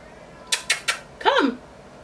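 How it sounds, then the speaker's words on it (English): A kitten gives a rising and falling meow, heard close by after three sharp taps or clicks in a quiet indoor setting. "It's a lot of meowing."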